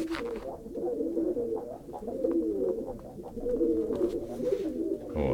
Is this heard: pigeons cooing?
yes